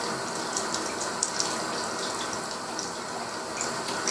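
Tap water runs steadily into a brewing vessel while a smoked Brett whisky barrel-aged Russian imperial stout is made, a continuous close hiss of flowing, filling water with no talk.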